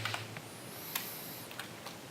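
Computer keyboard keys are tapped for shortcuts while drawing, giving scattered light clicks at uneven intervals over a quiet room hiss, soft and close.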